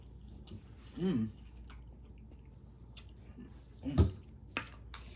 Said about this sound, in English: let me actually start eating